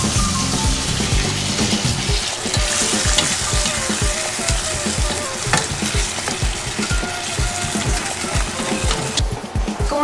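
Mushroom chicken sizzles and fries in a pan, a dense close crackle with repeated stirring scrapes and clinks running throughout.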